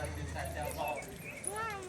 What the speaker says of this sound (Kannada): ನಾಯಿ ಮರಿ ನೋಡಿ ಚಿನ್ನ